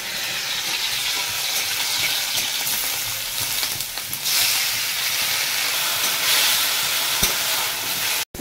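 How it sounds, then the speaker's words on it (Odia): Onion, tomato and green chilli fry hard in hot oil, a loud, steady, close sizzle and crackle with hissing steam that keeps going without a break for several seconds. "ଏତେ ଜୋରରେ ଚଟ ଚଟ ଧଡ଼ ଧଡ଼ କରିକି ଭାଜିଦେବେ"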